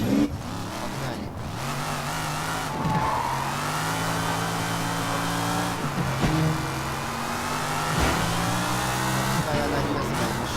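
Car engine revving hard while driving in the open-world game Sleeping Dogs, a steady harmonic drone that climbs in pitch and drops back at each gear change, continuous and close throughout.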